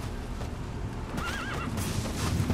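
A horse in the Metal Gear Solid V video game gives a wavering whinny over steady game ambience and soft hoof clip-clops, running through the whole stretch.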